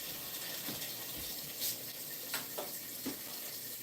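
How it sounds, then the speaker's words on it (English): Water from boiled eggs being poured off into a kitchen sink, a steady watery splash and trickle with a few small clinks against the pot, moderately loud and with no voices. "I'm just draining the water off these eggs."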